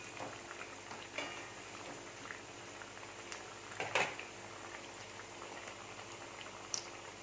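Maggi vadai deep-frying in oil, a soft, steady bubbling sizzle with scattered crackles and one sharper pop near the middle, fairly quiet and without any talking.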